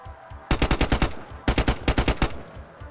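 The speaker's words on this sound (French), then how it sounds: "Ça tire devant moi." Automatic gunfire in DayZ, two rapid bursts of about seven sharp shots each, loud and close, with a short gap between them and a few faint shots trailing after.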